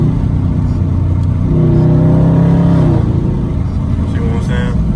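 A Dodge Charger Scat Pack with the 392 engine blips and revs during a manual downshift, the loud engine note rising and then falling back, with a person talking over it near the end.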